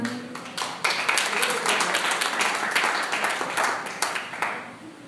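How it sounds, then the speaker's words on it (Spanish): A church congregation at a Spanish-language sermon claps for the Lord, a loud, busy patter of hands with sharp individual claps standing out, swelling and fading across several seconds, with some voices mixed in. "Den un aplauso al Señor."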